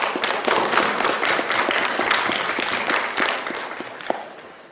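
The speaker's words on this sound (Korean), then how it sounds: "수고하셨다라고 우리 박수와 응원을 보내주십니다" A church congregation applauds a bereaved family during a Sunday worship service, a steady wash of many hands clapping that fills the room for the whole stretch and eases off slightly toward the end.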